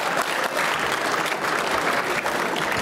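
Loud, close, sustained applause fills a banquet hall at a Chinese chamber of commerce annual gala in the US, many hands clapping densely and evenly throughout.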